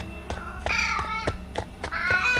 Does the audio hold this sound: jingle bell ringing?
no